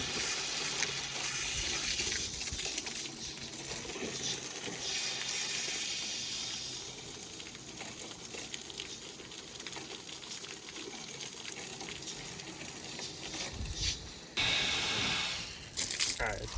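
Water rushes steadily from an open outdoor spigot at an off-grid house in the woods as the cold lines are bled of air, a continuous hiss with brief bursts of spitting near the end.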